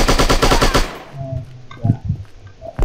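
Rapid automatic gunfire in the shooting game Striker, a loud burst of about eight evenly spaced shots that stops abruptly, followed by quieter clanks and thuds of in-game action.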